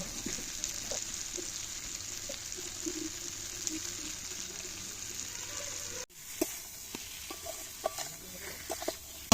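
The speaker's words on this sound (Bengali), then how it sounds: "মশলার সাথে আলু আর বেগুন খুব ভালোভাবে কষে নিয়েছি" Potatoes and eggplant stirred and fried with spices in a pan, giving a steady low sizzle with scraping and clinking of the spoon, and a brief louder burst of stirring near the end.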